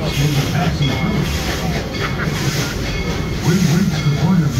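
A ghost train ride rolls along its rails, a steady loud rumble with low rhythmic wheel clatter and a droning hum, continuous throughout, with a voice speaking over it.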